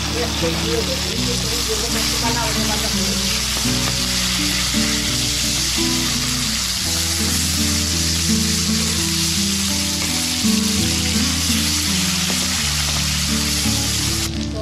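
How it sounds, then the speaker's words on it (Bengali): Fish frying in mustard oil in a hot kadai gives a steady, close sizzle with bubbling crackle throughout, and a voice talks over it. "লাল লাল করে ভাজা করছি মাছ।"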